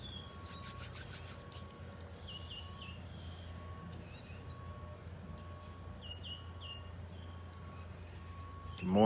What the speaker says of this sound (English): Birds are awake.